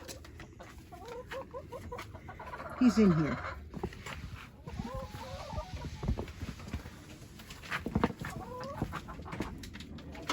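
Backyard chickens cluck softly in short bursts at close range while a person talks to them, with occasional louder vocal squawks and rustling in between.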